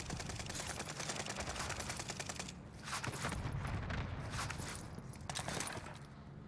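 Automatic gunfire on the Caldera map of Call of Duty Warzone, with two teams shooting at a third: dense rapid bursts of shots with brief gaps between them, fairly distant, no talk over it.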